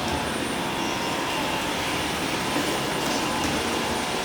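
A Dyson vacuum cleaner runs continuously at a store launch in a mall, a loud, steady broadband whir with no pauses.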